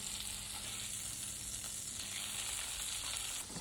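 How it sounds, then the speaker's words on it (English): Asparagus bubbles toward the boil in a butter emulsion, making a steady, close sizzle and fine crackle that carries on evenly throughout without any voices. "Asparagus is coming up to the boil, just in a sort of a butter emulsion"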